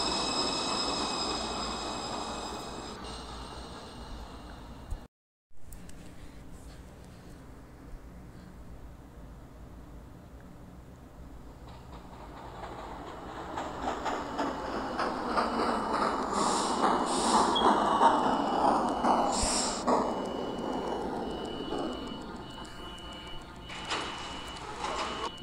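An NYC subway J train in a simulated station, hissing and rumbling as it moves through with rising wheel and motor noise and some squeals, then brief door or brake hiss near the end.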